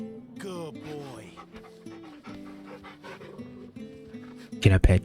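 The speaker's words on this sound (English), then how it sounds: "Can I pet that doggy?" A dog pants rapidly in Final Fantasy XVI, the quick breathy rhythm running close and clear through the clip with some whimpering tones and game sounds, ending in a louder burst.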